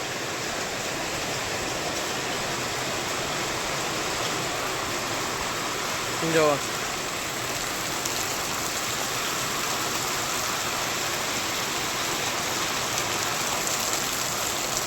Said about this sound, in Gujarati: એક જ ધારો વરસાદ પડે છે